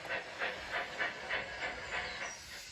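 Rhythmic steam tram chuffs repeat evenly, about three per second, each a soft breathy hiss over a low rolling rumble, with no talking.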